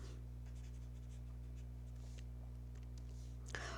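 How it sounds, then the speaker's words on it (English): Pen or marker writing on a board or paper during a lecture on divisibility in integral domains, a faint steady scratching of strokes over a constant low hum, ending with a brief louder tap. "Let me write that more properly."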